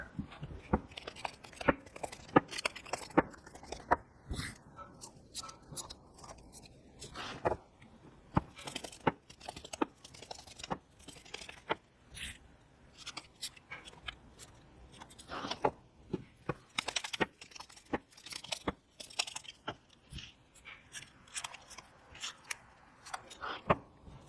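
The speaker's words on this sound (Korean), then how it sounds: "카드를 섞으면서 시작해 보도록 하겠습니다" Tarot cards being shuffled by hand: a long run of crisp paper riffles, flicks and soft slaps in an irregular rhythm, close and fairly quiet, with no speech.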